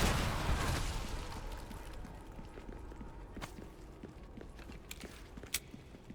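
An explosion in the Resident Evil 4 Remake video game starts loud and booming, then decays into a fading rumble over the first second, followed by quieter scattered thuds, footsteps and sharp game effects.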